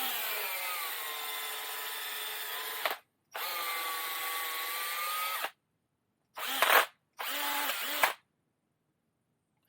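A failing battery-powered drill, smoking and sparking, runs in loud sustained bursts with a strained high whine, stopping and restarting several times with short gaps and a couple of brief stuttering spurts near the end.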